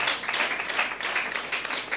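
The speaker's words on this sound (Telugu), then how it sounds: "చప్పట్లు కొట్టండి దేవుని గట్టిగా" Congregation applause at a church service, a close, moderately loud burst of many people clapping in uneven pulses that continues for the full two seconds.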